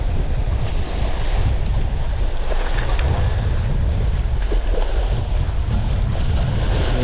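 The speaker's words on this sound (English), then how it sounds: "This wind is something else." Strong wind gusts roar steadily across a roadside fishing spot beside water, a loud, continuous blustery rush buffeting the microphone with low rumble throughout, no voices.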